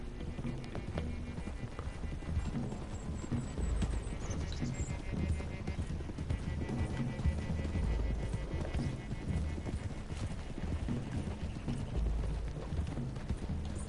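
Horses' hooves clip-clopping along a road in a video game, a steady continuous patter of several horses under ambient game sound.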